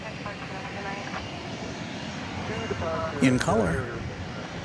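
Airbus A319 airliner on the runway at DFW Airport at night, a steady broad engine roar holding at moderate distance, with a voice speaking briefly over it near the end.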